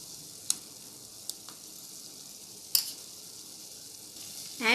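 Bay leaves, cloves and cardamom fry in a little oil and ghee for chicken dum biryani, giving a soft, low sizzle with a few sharp ticks and crackles, then a louder burst at the end.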